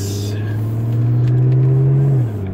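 A 1990 Nissan 300ZX engine with a small exhaust leak drones steadily at a low pitch on a test drive, rising slightly in tone before easing off near the end, loud and close with no talking.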